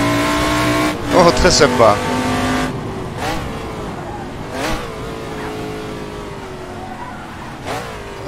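A prototype race car in Assetto Corsa, an AC Legends mod, holds a steady engine drone with shifting pitch, rising revs, and a short burst of tire squeal. Someone talks over it.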